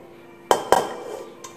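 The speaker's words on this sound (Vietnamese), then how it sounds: "Đổ ra đĩa này." A pot of sticky rice with mung beans is tipped onto a plate, giving two sharp, close clinks of pot against dish and a faint later tap in a quiet kitchen.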